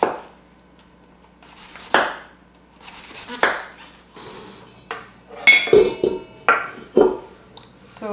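Cabbage is cut by hand into thin strips for sauerkraut: a knife chops down onto a board in sharp, close knocks, slow and spaced at first, then quicker and irregular with light clinks.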